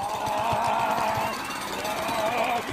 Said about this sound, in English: Jackhammer begins with the letter J.